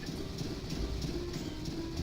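A train rolling along tracks in the video game Banjo-Tooie, a constant chugging rumble with a regular clip-clop rhythm of wheel clacks and a steady whistling tone.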